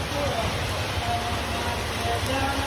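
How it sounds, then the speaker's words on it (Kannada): Heavy rain falls outside, a dense, steady hiss that stays loud and constant throughout, with faint voices talking underneath. "ನೋಡ್ರಿ ಮಳೆ ಎಷ್ಟು ಬರ್ಲತ್ತದಾಗ."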